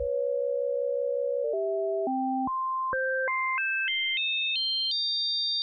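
A Korg Opsix synthesizer plays an amplitude-modulated tone that resembles a dial tone. It steps upward through a climbing series of sustained pitches, clean and electronic, with no voices.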